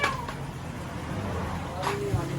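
A kitten stuck inside a car engine gives faint, brief meows, a couple of short high cries heard under nearby talking voices.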